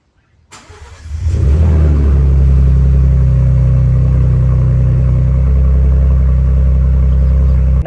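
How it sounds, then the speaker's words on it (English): A Ford Ranger Raptor engine cold-starts, cranking briefly and firing up, settling into a loud, steady, rumbling idle close by. "it would be rude not to give you a cold start"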